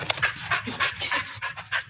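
A Border Collie agility dog pants rapidly and steadily up close, quick rhythmic breaths continuing throughout with no talk.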